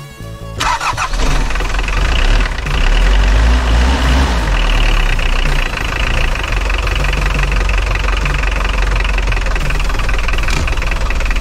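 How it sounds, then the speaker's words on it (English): A 4D56 engine cranks and catches, then settles into a loud, steady idle with a low rumble and faint knocking that continues throughout. "Next thing you're going to do is start the engine."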